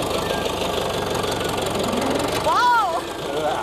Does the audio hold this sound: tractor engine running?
yes